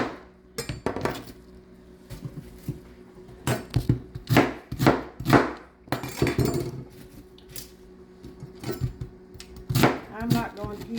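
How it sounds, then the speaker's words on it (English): A knife chopping through cabbage on a cutting board at home, with a run of sharp, close chops in uneven bursts, pauses between strokes and faint clinks of kitchen items. "now just going to finish cutting them"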